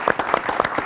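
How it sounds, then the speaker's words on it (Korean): Audience clapping at a high school student venture competition, a short burst of dense rhythmic applause heard up close. "박수 한번 다시 한번 주시고요."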